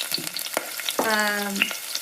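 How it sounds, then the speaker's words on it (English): An egg frying in oil in a frying pan gives a soft, steady sizzle with crackling pops across a short stretch, mixed with brief clatter and a tonal squeak near the middle. "pour some oil into the frying pan. Then crack the egg open into the frying pan"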